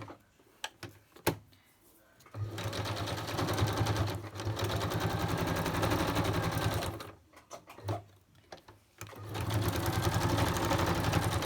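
A sewing machine stitching in several sustained runs of rapid, even mechanical whirring, separated by short pauses with a few clicks, close and loud.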